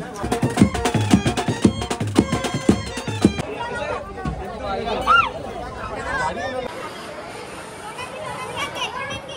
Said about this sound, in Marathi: बघा इथं गर्दी